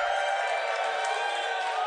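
A live podcast audience of a few hundred people cheers in a steady, dense roar of voices that holds evenly from start to finish.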